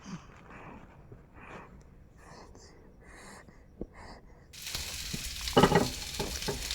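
Boiled potatoes with turmeric and salt fry in oil for a fish and potato curry; the pan is quiet with soft stirring at first, then a loud, crackling sizzle bursts in and continues close up.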